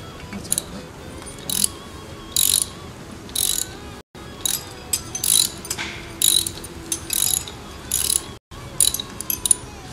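A ratchet loosens the rocker arms on an engine during disassembly, with bursts of quick metallic clicking, close and crisp, separated by short pauses.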